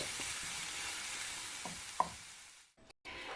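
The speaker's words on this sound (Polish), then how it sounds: "Wszystko razem mieszamy na patelni i dusimy około 5 minut." Mushrooms stew with other ingredients in a frying pan. A soft, steady sizzle runs through with a few light scrapes of stirring, then it drops out briefly near the end before returning.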